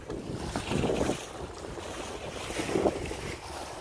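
A sailboat under sail at about 6 knots in 12 to 15 knots of wind off Key West, with steady wind buffeting the microphone and waves washing in two broader surges.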